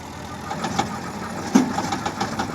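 A Massey Ferguson 1035 tractor, one of three stuck in a grass-filled field, works its way out with a steady mid-pitched engine drone, rhythmic knocking pulses and a sharper thump midway, fairly close.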